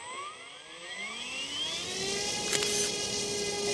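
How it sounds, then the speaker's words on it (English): Electric motor of an FMS 1400mm F4U Corsair RC warbird plane running up under throttle, a steady rising whine with climbing tonal sweeps and a dense rushing propeller roar, loud and close throughout. "operate the throttle and we'll see how much power this motor generates"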